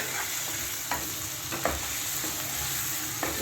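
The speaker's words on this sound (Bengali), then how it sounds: "আলুটাকে কষিয়ে রেখে দিই" Boiled potatoes being sautéed with spices in a pan, a dense continuous sizzle broken by a few scraping stirs of a spatula.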